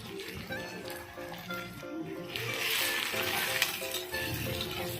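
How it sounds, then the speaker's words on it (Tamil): Crushed ginger and garlic frying in hot oil for channa masala, a continuous close crackling sizzle that swells slightly midway, with occasional stirring clinks and faint background tones. "பாருங்கள், ஃப்ரை பண்ணிகிட்ருக்கேன்."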